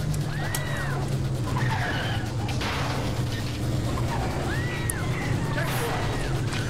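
Cars driving and skidding in the racing video game Carmageddon, on a snowy ski course, with steady engine drone and repeated tire squeals rising and falling, one early and one later, under continuous talk.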